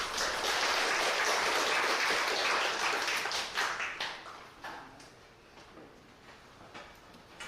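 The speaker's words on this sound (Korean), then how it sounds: "심사원님들께도 큰 박수 부탁드리겠습니다." Audience applause in a hall at a church speech contest, a dense burst of clapping that gradually thins out into scattered claps and fades.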